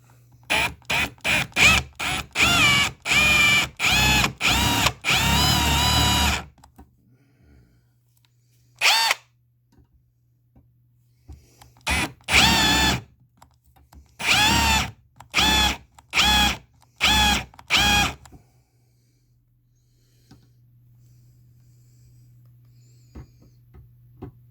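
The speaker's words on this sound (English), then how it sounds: "I'm going to drill these off." A power drill works on the bottom brackets of a MarinAire 16000 BTU air conditioner unit, firing in a rapid run of short loud bursts, then a pause and several more separate bursts against a low steady hum.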